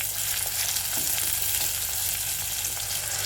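Onions and dried chillies sizzle in a pan with a constant close hiss of frying and faint stirring, no voices.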